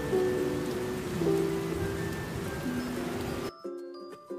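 Rain falls steadily in an animated children's story, a soft continuous patter under background music tones, cut off abruptly near the end, leaving only the music.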